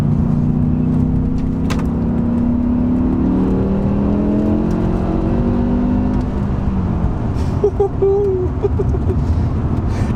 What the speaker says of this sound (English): I'm just gonna go into third gear because we've got a little bit of a corner here